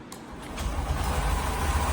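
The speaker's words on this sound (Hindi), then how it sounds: "सिंगल टच में गाड़ी स्टार्ट है" A Honda Shine motorcycle engine starts with a single touch of the starter and settles into a steady low idle, close by.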